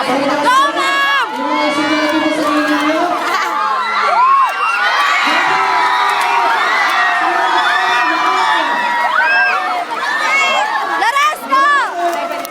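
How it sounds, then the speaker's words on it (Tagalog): Children shout and cheer loudly during a girls' basketball game shot, a dense crowd of high excited voices whooping and yelling continuously for several seconds, close and energetic with scattered calls rising above the din. "Sumigaw kayo habang nakashoot."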